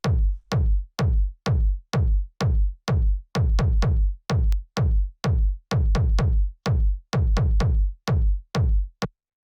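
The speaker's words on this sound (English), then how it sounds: "The first sound we have here is the kick" A punchy tech house kick drum plays alone in a steady four-on-the-floor pulse, each hit deep and boomy with a sharp click and quick decay.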